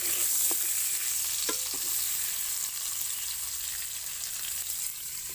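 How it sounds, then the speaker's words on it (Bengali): Pointed gourd (potol) fries in a wok with a soft, steady sizzle, punctuated by a few light stirring clicks and scrapes, fairly quiet throughout with no voices. "ওই কড়ার মধ্যে পটলটা আমি দিয়ে দিয়েছি পটলটা একটু ভাজা ভাজা হয়ে গেলে তারপরে আলুটা দেবো"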